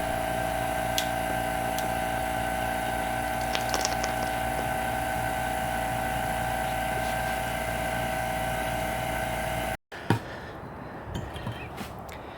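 A vacuum pump drawing down an investment casting chamber gives a steady, loud mechanical drone with a constant tonal hum and a few faint clicks. It cuts out abruptly near the end and is followed by quieter handling noise.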